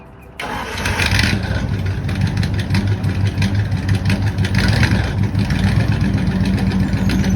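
A 1930s hot rod engine starts abruptly and settles into a loud, steady, rough running rumble close by, with a slightly uneven throb and no speech over it.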